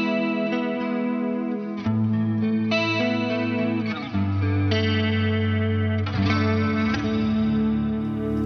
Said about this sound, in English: if I turn down the width or depth, you will hear how it just smoothens out the whole thing